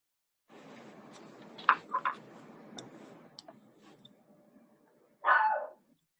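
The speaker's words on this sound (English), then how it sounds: "Can you hear that? That's just my dog." A dog gives a few faint barks indoors, a quick pair of short yips near the middle followed by one fuller bark toward the end, over a quiet background hum.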